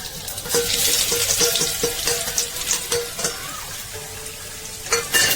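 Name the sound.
ginger frying in hot oil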